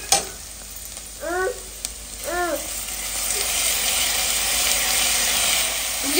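Onions with ginger garlic paste sautéing in a pan make a close, continuous sizzle and hiss, with two short rising tonal chirps early on and the frying swelling slightly louder later.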